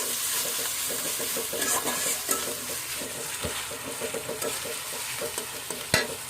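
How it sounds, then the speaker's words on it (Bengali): Onion paste fries in hot oil while being stirred, a loud continuous sizzle with rhythmic scraping strokes of a spoon against the pan and a couple of sharp clinks, close up and without voices. "পেঁয়াজ বাটা দিয়ে দিলাম এখানে।"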